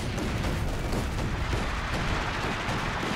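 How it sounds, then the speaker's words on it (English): Artillery fire in the strategy game Company of Heroes 2, a dense continuous rumble of booms and blasts, loud and unbroken, with no talk. "Artillery batteries are armed and ready to fire."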